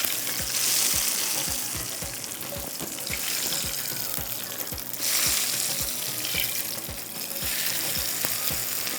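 Hot oil tempering sizzles and crackles loudly in bursts as it is poured over dal, with a steady run of light ticking and clinking underneath.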